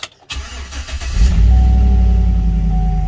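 A 2011 GMC Sierra pickup's 5.3L V8 engine turns over and settles into a loud, steady idle, heard up close from inside the truck with a deep rumble; check engine light on.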